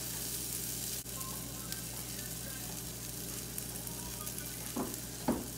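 Butter sizzles steadily in a hot pan, a constant crackling hiss with a couple of soft utensil clinks toward the end.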